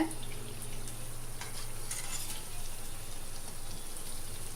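Wheat flour malpua fries in a pan of oil, a constant close bubbling sizzle with faint scrapes and light clinks of a utensil now and then, and no talking.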